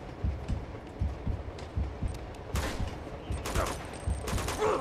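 Rapid bursts of gunfire from the video game Uncharted 2, rhythmic shots and thuds repeating across the clip with a louder, brighter burst of fire near the middle.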